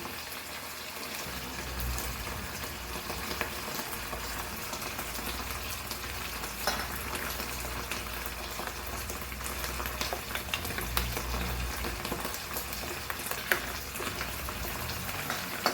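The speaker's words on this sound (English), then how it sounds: "Now in this we will add around half cup of water and mix and keep." Water is added to a Goan sardine curry made without coconut, then stirred in the pan. There is a steady, continuous wash of liquid and simmering sizzle throughout, with no speech.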